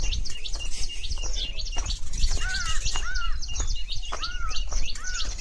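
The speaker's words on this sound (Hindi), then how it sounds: "अभी आपने सुनी आवाज चिड़ियों की, कितना सुकून मिलता है भाई।" Birds chirping and tweeting continuously, several calls overlapping in quick, varied bursts against a steady outdoor background.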